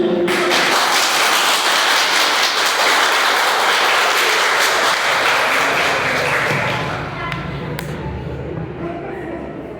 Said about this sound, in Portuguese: Vocês querem aplaudir? Pode aplaudir.